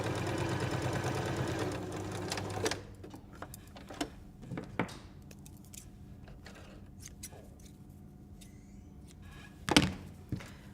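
A sewing machine whirs rapidly for a few seconds, then stops, followed by quiet clicks and handling sounds of fabric.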